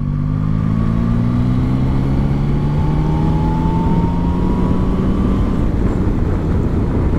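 Yamaha Tracer 9GT motorcycle accelerating at full throttle, a loud close engine drone whose pitch climbs steadily through the revs before easing off near the end, with heavy wind rush underneath.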